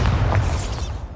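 A Bombarda blasting spell goes off in the video game Hogwarts Legacy as a single loud, booming explosion with a crackling upper edge, then fades into a lower rumble.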